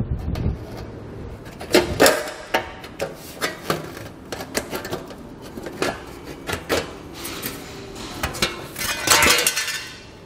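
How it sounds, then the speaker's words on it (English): Tin snips cut a metal heat shield during a trailer hitch installation on a 2020 Nissan Kicks, giving sharp, irregular metallic snips and clinks in quick bursts, fairly close. "I'm going to use a pair of tin snips to get that done."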